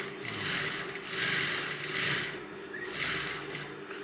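A sewing machine stitches a kanchli blouse, a close, steady mechanical whir that rises and falls in short bursts as the fabric is fed and turned, fairly quiet, with no one speaking.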